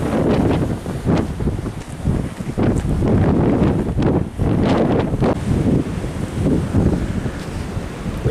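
Strong wind buffets the microphone in heavy, rumbling gusts, with a roaring, surf-like wash underneath and brief lulls between blasts.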